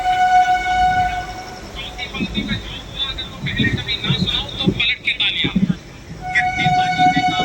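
Interior of a moving Doon Express general-class coach, with steady rumbling rail noise throughout, a sustained train horn sounding at the start and again near the end, and people talking in the carriage.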